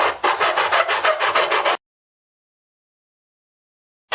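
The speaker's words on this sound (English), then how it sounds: "So I got my sanding block." A flat sanding block rubs back and forth on mandolin wood in quick, even strokes, about a dozen rasping passes, then silence before one more stroke begins.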